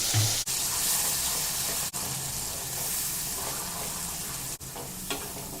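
Tomato-onion paste masala for matar paneer frying in a pan, a steady loud sizzle with brief stirring breaks.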